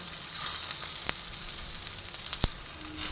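Potato tikki shallow frying in oil in a pan, a continuous close sizzle with two sharp pops standing out, no voices.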